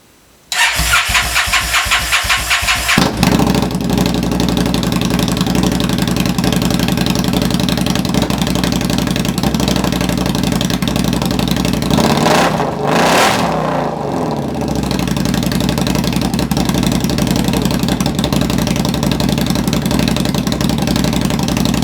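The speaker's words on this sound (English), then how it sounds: "Exhaust is on, let's see what it sounds like." An Indian Scout motorcycle fitted with a Freedom exhaust fires up with a brief crank, then settles into a loud, steady idle with a short swell of revving partway through, close and continuous.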